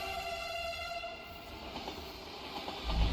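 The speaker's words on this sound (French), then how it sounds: "Du coup, ça va être une rame de métro." Rumble of a rainbow-coloured metro train in a Roblox train simulator game, a steady rolling drone with tonal whine and a low thump at the end, no talk.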